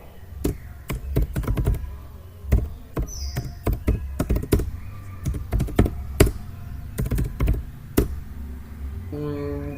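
Close, clear typing on a computer keyboard: irregular runs of crisp key clicks and thunks over about ten seconds, with a faint electronic tone near the end and no speech.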